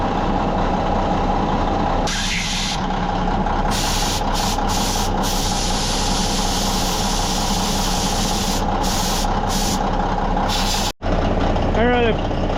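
Idling truck engine with air brakes, a steady low rumble throughout broken by several sharp hissing bursts of released air, one short dropout near the end, then a squeal-like whine, fairly loud and close.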